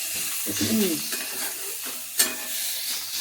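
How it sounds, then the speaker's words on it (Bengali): Onion fries in oil in a kadai with a close, steady sizzle, joined by stirring scrapes and a sharp utensil clink about two-thirds through. "পেঁয়াজটা ভাজা হয়ে গেছে"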